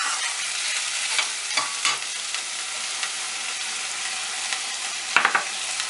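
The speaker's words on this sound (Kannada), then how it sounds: "ಇವಾಗ ಈರುಳ್ಳಿ ಹಾಕೋಣ. ಸಣ್ಣಗೆ ಹೆಚ್ಚಿದ್ದೆ ಈರುಳ್ಳಿ 2." Finely chopped onions frying in a pan for a brinjal curry, a continuous bright sizzle with scattered stirring scrapes and a cluster of sharper clinks near the end, no voices.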